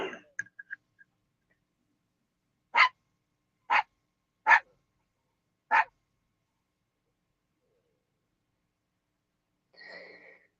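A puppy barks four short, sharp times at roughly one-second gaps, faint and somewhat distant, with a soft yip trailing later.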